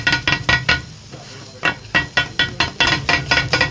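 Beef kothu parotta chopped and mixed on a griddle with onion, tomato and masala: loud, rapid metal-on-metal clanging strikes in quick bursts, pausing briefly near the middle before resuming.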